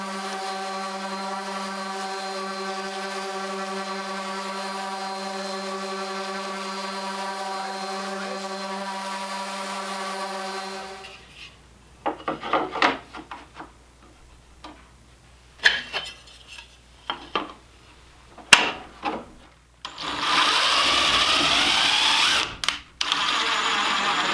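A power sander works over a wooden DIY bat house, first a steady whining motor drone for several seconds, then scattered knocks and clatter, and finally a rough, loud burst of sanding noise near the end; no one speaks.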